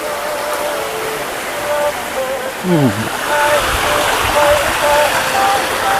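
Hot spring water flowing strongly at San Kamphaeng hot springs, a loud, steady rushing wash heard close by as people talk over it.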